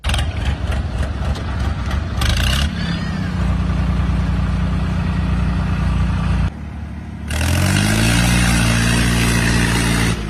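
A tractor engine, a John Deere or Swaraj 855, runs steadily through a tug-of-war, loud and close, with a rougher rise in the revs near the end.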